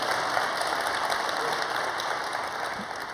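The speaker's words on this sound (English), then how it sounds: "You can applaud." An audience at a youth summit Q&A breaks into steady, dense applause that fills the room for several seconds without letup.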